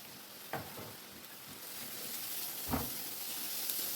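Green onion and chopped red onion sizzling in melted butter in a pan, a quiet steady hiss with a couple of soft stirring scrapes.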